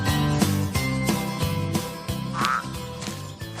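A toad croaking in a steady, rhythmic series of loud, throaty pulses, close by and repeating without pause.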